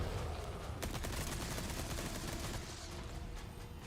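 SMG gunfire in the video game Resident Evil 4, a dense, continuous rattle of rapid shots that stays loud and steady throughout, with no talk.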